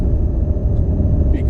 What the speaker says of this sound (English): look at this truck